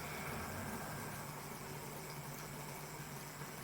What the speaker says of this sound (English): the noise you can hear are really just the wheels on the rolling roads